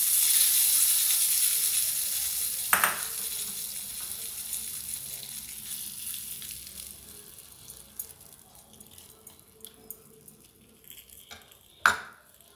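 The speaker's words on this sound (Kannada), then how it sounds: "ಇವಾಗ ನಾನು ಇದ್ರ ಮೇಲೆ ಒಗ್ಗರಣೆ ಹಾಕ್ಕೊತಾ ಇದ್ದೀನಿ." Spice tempering sizzles in a pan for ash gourd buttermilk curry, a bright frying hiss that fades gradually, with a couple of sharp utensil clinks.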